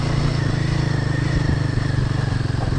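A Tata Sumo driving off-road on a rough track to Manmalai near Salem, its engine chugging in a steady, close, rhythmic throb with some rattling and clatter throughout.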